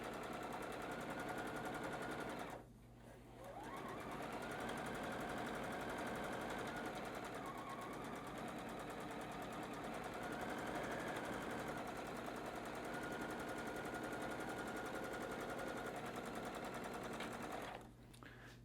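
A sewing machine stitches along the edge of Michael Miller fabric for a tree-ornament gift card holder. It gives a steady, close, buzzing whir that runs almost the whole time, with short pauses near the start and the end.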